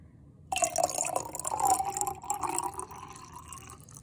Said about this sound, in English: The next thing that we're going to do is add some water.